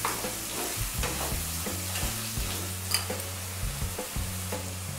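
Mutton pieces and masala being stirred in a hot pan, a steady close sizzle of frying with repeated scraping strokes of the spoon, and no talking.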